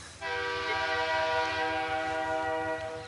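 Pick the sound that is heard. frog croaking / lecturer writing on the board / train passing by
train passing by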